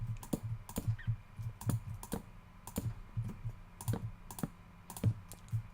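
A new computer mouse clicks repeatedly during a Minecraft play session, sharp, close clicks in an uneven rhythm, some in quick pairs, with no talking.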